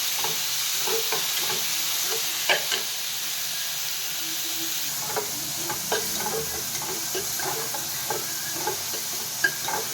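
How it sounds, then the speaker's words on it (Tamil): Tomatoes fry in a pan for a lentil-ball kulambu while being stirred, giving a constant soft sizzle and hiss with scattered light scrapes and taps of the spoon, close and moderately loud, no talking. "இதுமாரி ஃப்ரை பண்ணிக்கிட்டே இருக்கணும்ப்பா. கொஞ்சம் தக்காளி வதங்கட்டும்."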